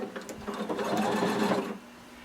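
A sewing machine runs in one quick burst, stitching across the back of a swimsuit's folded elastic casing, a close, steady mechanical whir lasting under two seconds.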